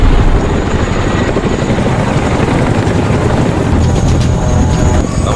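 A Chinook helicopter roars loudly and continuously during a military evacuation of wounded soldiers, its dense rotor and engine noise steady and close throughout.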